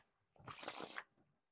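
Silver Lounge Edition Jetsetter playing cards with plated finish being riffle-shuffled, one brief close burst of rapid fluttering card riffles, alone without talk.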